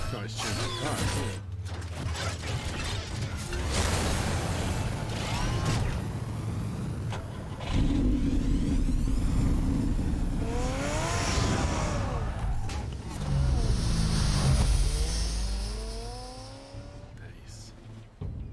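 Car driving in Batman: The Telltale Series, with a steady engine drone, mechanical clicks and rising revs, plus a tire-squeal-like sweep, all loud and continuous beneath game music.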